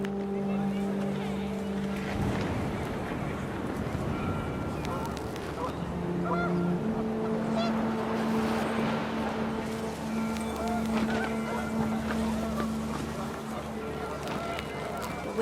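Panicked geese honking amid wind in the game What Remains of Edith Finch, repeated nasal honks over a steady windy rumble, with a voice talking over much of it.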